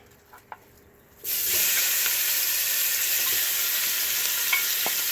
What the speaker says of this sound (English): Now I'm going to throw in my pound of ground beef.